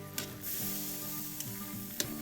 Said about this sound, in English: With these brats simmering away,